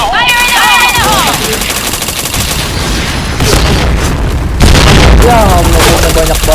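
Gunfire and grenade blasts fill a busy match of the shooter video game Point Blank, with rapid weapon fire and booming explosions layered under constant game sounds and voices talking over the action.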